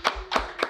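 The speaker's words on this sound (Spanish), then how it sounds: "Un aplauso." A few separate hand claps at a podcast-style interview, three distinct faint claps spaced evenly in under a second, quiet and close.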